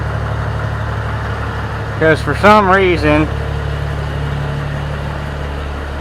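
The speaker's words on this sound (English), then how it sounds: "something about the exhaust on that tractor, it gets loud." A low, steady tractor engine idle with a muffler drones throughout, with someone speaking briefly over it partway through.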